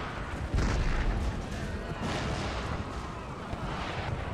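Battlefield cannons firing in Empire: Total War, a loud booming volley early on followed by further rolling blasts and rumble over continuous battle ambience.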